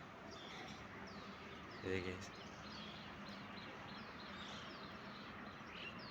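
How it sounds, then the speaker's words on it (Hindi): Birds chirp outdoors at sunrise among hills, faint, scattered high tweets in the distance over a steady background hiss, while someone speaks briefly nearby. "एकदम चिड़ियाओं की आवाज़ आ रही है"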